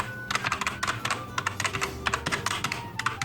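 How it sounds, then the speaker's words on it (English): Rapid, uneven clacking of keys on a budget gaming keyboard, up close and fairly loud, with bursts of typing and short pauses between them and no voice. "This is fake typing."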